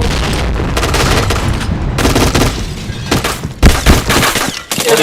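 Rapid bursts of gunfire from a shooting video game, including AWP rifle shots, come loud and close in several dense volleys separated by short gaps, with no talk over them.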